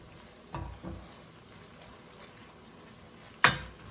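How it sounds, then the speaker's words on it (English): Minced garlic sautéing in a skillet gives a soft, low sizzle, with a few spoon knocks and one sharp clatter near the end, and no voices. "a tablespoon of garlic, minced garlic. We're going to let this saute for another minute."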